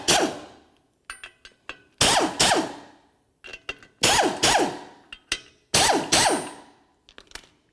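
A ratchet on the fan clutch mounting bolts of a 1984-2001 Jeep Cherokee, heard up close as sharp clicking bursts and quick ratcheting strokes separated by short pauses.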